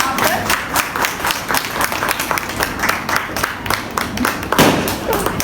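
Sustained audience applause at an all-in-pink ladies' event welcoming a doctor to the stage, a loud, even wash of many hands clapping throughout.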